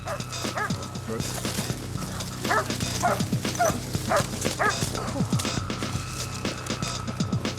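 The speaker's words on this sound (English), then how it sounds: "The barking police dog is a sure sign that it's picked up a scent." A police dog barks repeatedly while tracking a scent during a robbery pursuit, its sharp, close barks and yips coming in quick bursts over a low background rumble.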